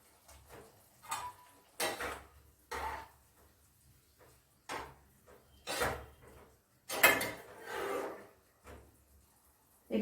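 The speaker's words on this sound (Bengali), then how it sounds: "আমি এই মশলার সঙ্গে আলুগুলো কষে নেব" Fried potatoes being stir-fried with spice masala in a pan, with repeated scraping and shuffling strokes of a spatula in separate bursts, close and fairly soft, and quiet gaps between them; no talking.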